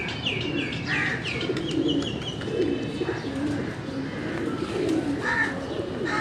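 Karachi pigeons on a rooftop coo in soft, rolling bursts while sharper chirps from other birds ring out repeatedly over a constant outdoor hum.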